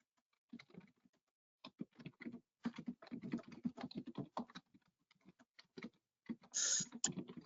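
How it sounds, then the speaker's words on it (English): Quick bursts of keyboard typing, close and fairly quiet, with short pauses between runs of rapid clicking keys. "I tried to type as quickly as I could in chat here"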